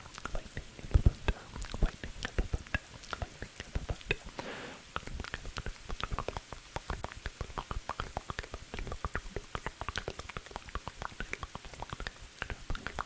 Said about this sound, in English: There's some rain in the background, and it has a little bit of thunder.